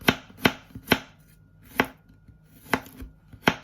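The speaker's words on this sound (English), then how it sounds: "What we're now going to do is just roughly chop it." Knife roughly chopping garlic on a cutting board: sharp, close taps land one at a time in an uneven rhythm, about eight cuts with short quiet gaps between them.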